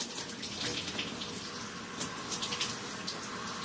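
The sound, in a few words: shower water running behind shower curtain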